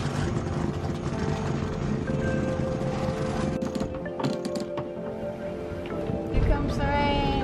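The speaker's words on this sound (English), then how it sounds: "Here comes the rain." Steady rain pours down on a sailboat in a dense, continuous hiss, with faint rumbles and scattered knocks and clatter mixed in.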